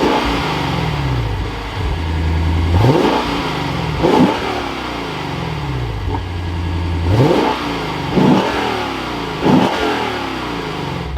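A 2022 Lexus IS 500 F Sport Launch Edition V8 starts up and revs repeatedly, sharp throttle blips rising over a rumbling idle in a steady rhythm, close and loud with no talking.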